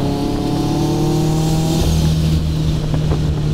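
A 700 hp sleeper VW Polo with a tuned 1.8T turbo engine runs loud and steady, its low drone holding while a rising turbo whine sweeps upward, then shifts in tone as the throttle eases off.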